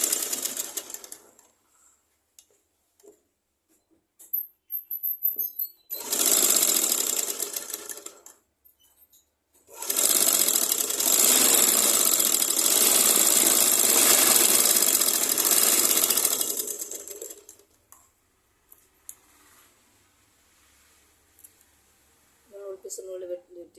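A sewing machine stitches cloth in two separate runs, a short burst and then a longer steady whirring stretch, with quiet pauses between them.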